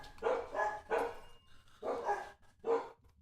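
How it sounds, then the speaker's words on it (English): Dogs in Minecraft's OceanBlock 2 modpack bark loudly and repeatedly, four or five sharp yapping bursts in an uneven rhythm with short pauses between, close and clear with no talking over them. "Ooh, the puppies are loud."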